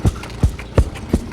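Horse hooves clip-clopping at a walk while being ridden through open Navajo Nation country, four distinct evenly spaced hoof strikes, close and clear with no talking.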